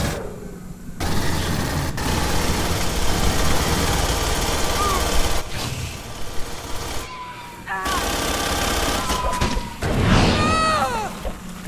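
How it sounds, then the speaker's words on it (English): A smart gun in Aliens: Colonial Marines multiplayer fires loud, rapid, sustained automatic bursts that continue for several seconds, broken by brief pauses and mixed with game effects. "Bring in the smart gun. I got a smart gun."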